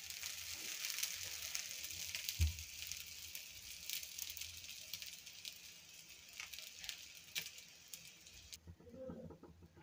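A spongy Davangere-style dosa cooking in oil on a hot pan, giving a soft, steady sizzle and faint crackle throughout, with a small clunk partway through and no talking.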